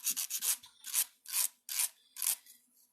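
Beads for a bead and wire bangle sanded by hand, a series of short rasping rubs in quick succession, close and fairly quiet, with brief pauses between strokes.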